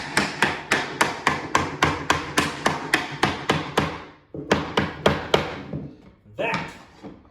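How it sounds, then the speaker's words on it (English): Hammer tapping a laminate flooring plank through a tapping block during a bonus room remodel, a rapid run of about eighteen sharp, close knocks, a brief pause, then a few more taps and a scraping shuffle. "take my hammer, put it on the side here. Just gonna tap it in"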